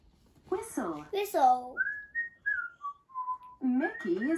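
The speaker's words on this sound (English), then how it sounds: "Mickey is whistling." A cartoon character, Mickey Mouse, whistles a short gliding tune of sustained notes, clear and close, with a speaking voice just before and after.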